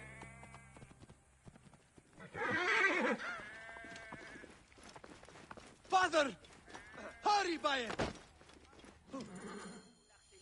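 A horse whinnies several times in Assassin's Creed Origins, loud harmonic neighs rising and falling between shouted lines of dialogue.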